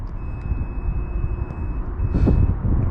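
A continuity tester on an abandoned Porsche 924 Turbo sounds a steady high-pitched beep when contact is made, drops out briefly and then resumes, over low background rumble.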